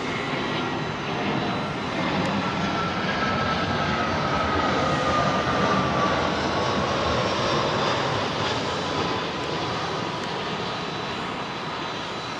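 Boeing 747 jet engines at Heathrow's runway 27L produce a sustained roar with a thin, slowly falling whine, swelling slightly and then easing, heard at moderate distance without voices.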